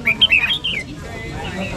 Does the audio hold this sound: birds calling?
yes